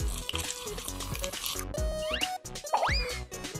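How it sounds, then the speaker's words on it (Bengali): Liquid yellow paint, with lemon juice added, is poured onto a t-shirt: a continuous, fairly loud wet pouring and splashing runs throughout under busy background music, with a couple of squeaky rising tones near the middle. "লিকুইড ইয়েলো পেইন্ট নিয়ে নিলাম আর টি-শার্টের মধ্যে ঢেলে দিলাম"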